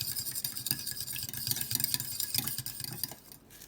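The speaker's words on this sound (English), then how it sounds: "Stirring in the egg." Egg being stirred by hand into a thick batter of melted butter and vanilla, a steady scraping, swishing rhythm of a utensil against a bowl, fairly quiet with a low background hum and no talking.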